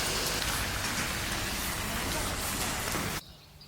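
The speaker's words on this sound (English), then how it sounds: "Rainy days in Uruguay." Steady heavy rain pours down in Colonia del Sacramento, Uruguay, close and constant, then cuts off abruptly near the end.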